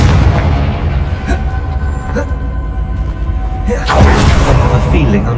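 In Hogwarts Legacy, a Confringo spell goes off in a string of heavy booming blasts over dense, rumbling game ambience. A louder burst rings out near the end.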